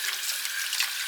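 Tap water running steadily over canning jars as they are rinsed at a kitchen sink, a close, hissing splash with small spikes of drips and clinks near the end.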